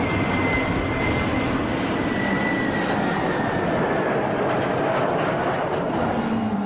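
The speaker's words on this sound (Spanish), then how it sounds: "Al encenderse los motores, nos acomodamos en el asiento" Jet airliner engines spool up in a loud, continuous roar with a steady rising whine, dense broadband rush filling the whole clip with no voices over it.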